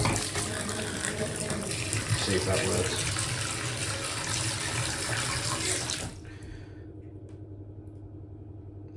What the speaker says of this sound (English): We're going to fill the bath up now to the overflow.